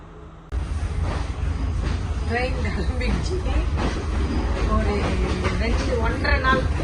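A passenger train rumbles steadily along, its low drone and rattling carriages continuous, with people chattering over it.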